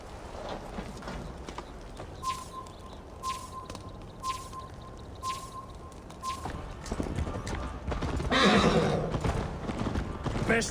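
A horse gallops in the video game Assassin's Creed Valhalla, its hoofbeats clip-clopping in repeated bursts while it neighs and snorts, with voices talking over it and a steady tone pulsing in the middle.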